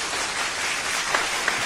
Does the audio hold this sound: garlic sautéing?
no